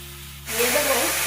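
Tart jujube fruits tipped into hot oil with fried five-spice seeds for a pickle-style chutney. Quiet kitchen hum, then a sudden loud, steady hissing sizzle that carries on to the end.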